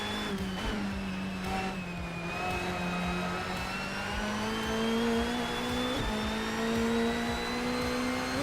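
A video game Volvo racing engine drones steadily at high revs, pitch drifting slightly up and down with brief shifts, fairly quiet and without voices.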